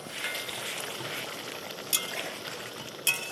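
Parshe fish, already fried, simmering with spice paste in a pan, giving a steady soft sizzle and bubbling with two brief metallic clinks of a utensil against the pan.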